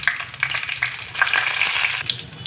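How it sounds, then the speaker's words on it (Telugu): Tempering seeds dropped into hot oil in a pan crackle and sizzle steadily, close and fairly quiet, with small pops scattered across the short stretch. "ఆయిల్ హీట్ ఎక్కిందండి, పోపు గింజలు వేసుకుంటున్నా."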